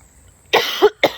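A person coughs three times in quick succession, sharp and close, after a brief quiet lead-in.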